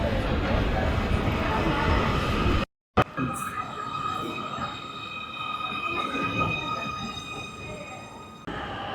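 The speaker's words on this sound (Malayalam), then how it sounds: "നമ്മുടെ ട്രെയിൻ വരുന്നുണ്ട്" A Munich U-Bahn subway train pulls into the platform with a low rumble and a steady electric motor whine that settles as it slows. The sound briefly cuts out partway through.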